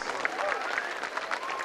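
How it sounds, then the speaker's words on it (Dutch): Spectators give steady, dense applause at the Beervelde 2019 three-star grand prix show jumping jump-off after Frederik Vernaat and the horse Dieu-Merci van T&L finish clear in 43.50 seconds, with a voice talking over the clapping. "beloont hem nog één keer met applaus"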